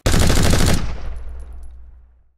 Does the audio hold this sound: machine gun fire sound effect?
yes